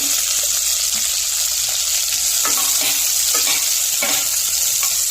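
Beans and carrots fry in a pan with dried red chillies and curry leaves, giving a steady, close sizzle with faint stirring scrapes throughout and no talking.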